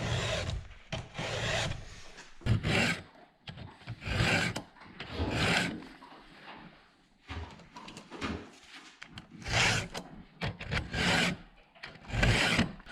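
A metal file rasps in repeated strokes sharpening a chainsaw chain held in a vise, each a short gritty burst with brief pauses between, close and fairly loud.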